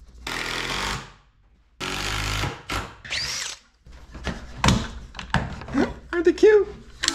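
Power drill driving screws into a clamped wooden boarding platform for a wooden boat, in several short whirring bursts separated by pauses, with voices talking between and over them.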